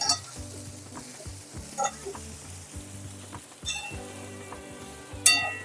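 Pohe (flattened rice) with turmeric is stirred gently in a hot pan, a soft steady sizzle broken by repeated scraping strokes of the spoon and a few light clinks against the metal.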